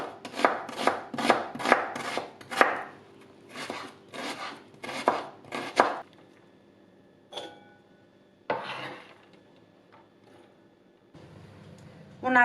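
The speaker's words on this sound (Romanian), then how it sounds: "3 cepe tocate fin" Knife chopping onions finely on a board for a Romanian oven-baked cabbage and smoked sausage dish, a fast run of sharp close taps for about six seconds, then a few scattered knocks and handling sounds.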